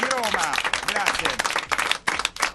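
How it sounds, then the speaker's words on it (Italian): An audience applauding in a radio studio setting, a brief burst of dense clapping with a voice speaking over it, moderately loud. "allora fatevi un applauso da soli"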